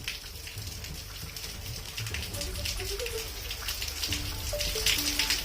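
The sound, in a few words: rain falling in Pithoragarh, Uttarakhand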